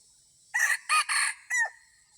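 A rooster crows once, a clear multi-part cock-a-doodle-doo, fairly close against a quiet background.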